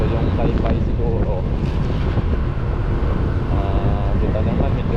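Strong wind buffets the microphone along a seaside boulevard in Roxas City with waves crashing nearby, a constant loud roar with traffic noise mixed in.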